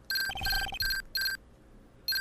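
The transceiver ringtone from the Phoenix Wright: Justice for All video game plays as a bright electronic melody in repeated short bursts with brief gaps, clear and alone.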